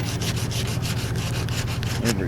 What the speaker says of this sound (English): Takes a lot of work on these grills because you have to sand every